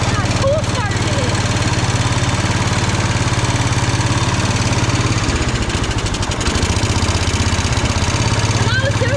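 A Cub Cadet 106 garden tractor engine idles loudly and steadily, a constant throbbing rumble up close, with a brief shift in tone partway through.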